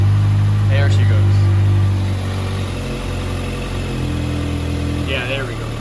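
A 2023 Kawasaki ZX6R race bike engine idles steadily and loudly nearby, settling into an even low drone, while a voice talks briefly over it.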